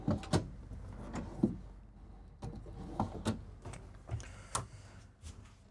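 Several wooden knocks and soft slides of drawers in a 2026 Renegade Explorer 40ERB motorhome being pulled open and pushed shut, close by in a quiet room with no talking.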